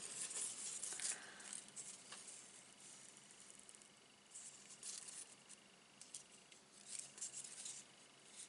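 Scissors trim excess paper while a small Stampin' Up! cantilever sewing basket is made, giving a few quiet, crisp snips and light paper rustles close by, with no voices.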